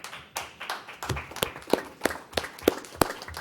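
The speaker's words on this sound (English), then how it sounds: "we can't stop and not give you a round of applause for a great job" A few board members clap for transit district staff at a meeting, about a dozen distinct, sharp claps in a loose, uneven rhythm with short gaps, fairly close and moderately loud in a quiet room.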